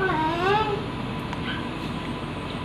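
A cat climbing on a wall lets out a drawn-out meow near the start over a constant background hum, followed by quieter noises.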